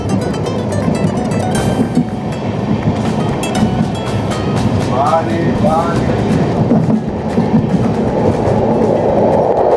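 A passenger train runs on rails through hilly country toward Mizoram, with a loud, steady rumble and rhythmic wheel clatter close by, carrying on throughout with faint voices beneath.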